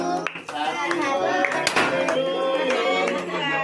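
Hands clap in quick, irregular bursts at a birthday cake cutting, mixed with people singing and children's voices close by.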